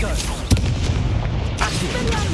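A Confringo fire-spell blast cast in Hogwarts Legacy on Xbox Series S, a sharp booming burst near the half-second mark amid continuous game noise, with a second softer swell later and a voice speaking over it.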